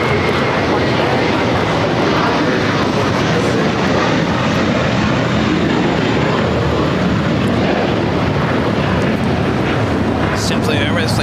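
A JetBlue Airbus A321 jet roars loudly and steadily at LAX, a broad continuous rumble that holds for about eleven seconds, with faint voices underneath.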